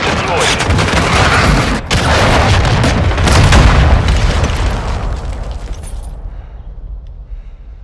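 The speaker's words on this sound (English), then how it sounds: "Friendly cruise missile deployed." A cruise missile strike in Call of Duty: Modern Warfare II, a loud, deep rumbling explosion roaring for several seconds over crackling debris and gunfire, then fading into a long tail.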